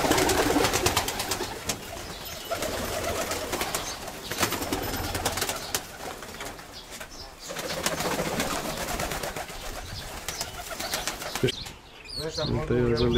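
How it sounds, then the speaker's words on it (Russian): Decorative pigeons, including a satinette, in a dovecote cooing and fluttering nearby, with rustling and handling noises throughout and people talking intermittently. "Вот голубенок, смотри."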